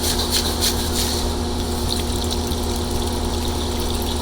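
Polishing media rinsed with water and borax in a tub, a steady rushing, sloshing wash of water with a constant low pump-like hum, continuous and close throughout.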